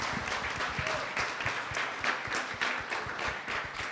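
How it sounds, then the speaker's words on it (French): Church audience applauding the instrumentalists at a praise concert, a moderate, even patter of many hands clapping with some distinct individual claps, heard from a short distance. "on peut encore les applaudir parce que c'est pas simple de travailler à distance"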